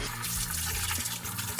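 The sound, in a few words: water splashing while washing laundry by hand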